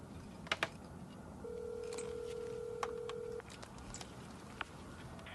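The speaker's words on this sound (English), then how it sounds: "I think I dialed the wrong number" Telephone dialing is heard as faint beeps and a long steady tone, quiet and alone with no voices.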